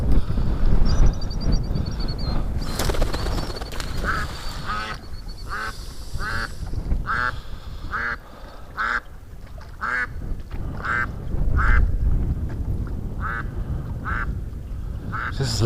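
An angry brooding mother duck quacks in loud, rapid repeated bursts near a dock over water, with people talking intermittently underneath.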